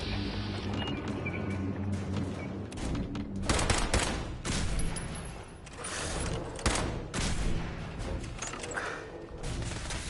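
Rapid bursts of video-game gunfire in Fallout 4 crack repeatedly, with mechanical clatter between volleys, loud and close, in a chaotic stretch of shooting.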